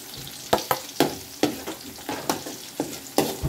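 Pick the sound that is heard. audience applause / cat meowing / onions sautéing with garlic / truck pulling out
onions sautéing with garlic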